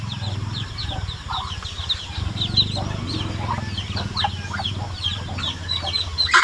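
A flock of hens with newly hatched chicks on a farm: constant high chick peeping chirps over a steady low rumble of clucking, close and busy throughout.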